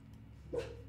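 A single short dog bark rises out of a low, steady background hum, close and moderately loud, then fades into the hum.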